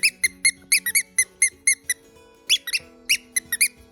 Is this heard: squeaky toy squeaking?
yes